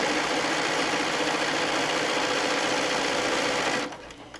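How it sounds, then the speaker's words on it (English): A sewing machine stitches quilt pieces in one loud, steady whirring run lasting most of the clip, close up, then stops abruptly near the end. "You'll sew that 6 inches."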